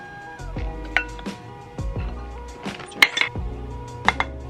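Toasted granola mixture being stirred in a big bowl, with repeated clinks and scrapes of a utensil against the bowl and a few sharper knocks, close and fairly quiet.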